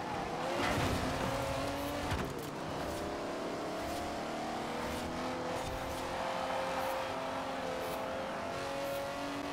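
Cars race in Forza Horizon 4, among them a Honda and a Corvette, with engines revving and droning, rising and falling pitch as cars pass, and tires squealing through turns, loud and continuous.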